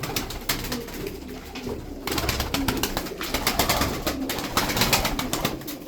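Arabian flying game pigeons out in the open, with soft cooing and wing flutters in a steady, moderately close flock murmur, crackly outdoor noise running throughout and no talking.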